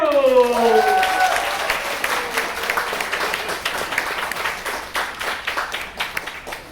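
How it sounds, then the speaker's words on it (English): A crowd at a district meeting bursts into sustained clapping to welcome the immediate past District Director, steady and fairly close, with a voice briefly heard at the start before the applause carries on alone. "Let's give a big applause"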